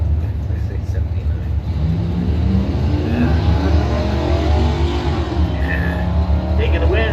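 A GMC pickup and a 1984 Camaro launch in a drag race, with a loud, continuous engine roar that builds and rises in pitch across the run.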